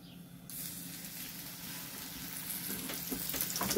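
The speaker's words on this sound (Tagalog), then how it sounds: "mainit na yung ating mantika. Ilagay na natin yung isda." Salmon fillet dusted in flour frying in hot cooking oil, a steady broadband sizzle that starts softly and grows louder and denser toward the end, close and continuous, with no talking.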